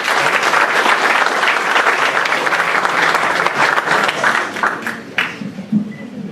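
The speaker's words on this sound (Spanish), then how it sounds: "Un aplauso, por favor" Audience applause welcoming a speaker at a university forum on the crisis of justice in Latin America, a loud, dense burst of clapping that thins into scattered claps and a few murmurs near the end.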